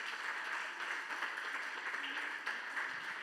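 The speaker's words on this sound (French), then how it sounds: "Can we clap for the Lord?" A church congregation applauding for the Lord, a steady wash of many hands clapping together, sustained and moderately loud for a few seconds with no voices over it.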